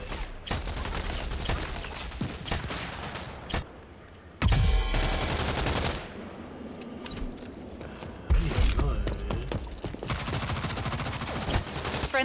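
Video game gunfire crackles in rapid bursts with heavy booming impacts and mechanical clatter, loud and close, with no one talking.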